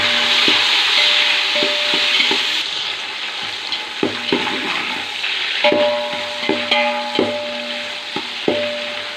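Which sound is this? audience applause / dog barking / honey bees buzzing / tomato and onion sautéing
tomato and onion sautéing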